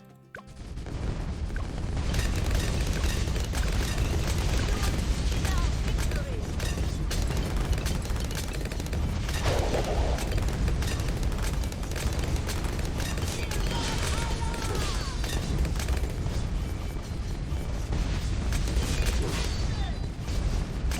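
Artillery battery tower firing in the video game Bloons TD 6, a dense, continuous barrage of booms and crashing impacts layered over game sounds, loud and sustained, with someone talking over it.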